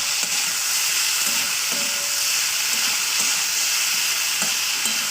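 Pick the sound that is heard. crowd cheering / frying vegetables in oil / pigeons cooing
frying vegetables in oil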